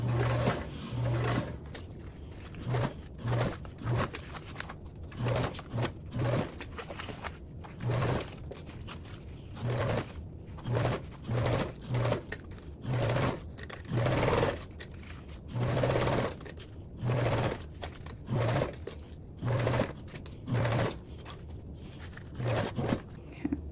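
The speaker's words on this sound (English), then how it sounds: "you will be sewing with a 3/8 seam allowance up until you get back up to the top of your gusset" A sewing machine runs in short bursts of rapid stitching along a tote bag seam, stopping and starting repeatedly with brief pauses between runs, close and steady.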